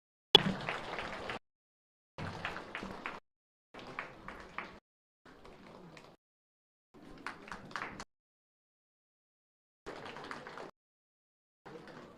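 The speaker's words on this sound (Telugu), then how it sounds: "claps claps please" Audience applause at an outdoor vegetarian rally in Vinukonda, heard as about seven separate bursts of clapping, each a second or so long with quiet gaps between, moderately loud and without talk.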